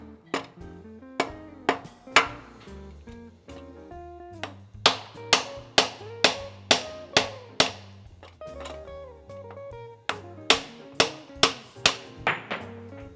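Metal hammer blows on downhill bike forks in a workshop, a long series of sharp ringing strikes, some in quick even bursts and others spaced apart, loud and close with no talk over them.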